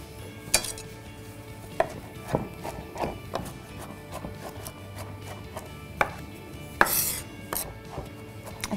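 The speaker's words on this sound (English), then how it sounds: "I've got some cooked chestnuts here that I'm going to chop quite roughly." A knife roughly chops cooked chestnuts on a board, irregular thuds and sharp taps spaced through the clip, close and clear with no talk.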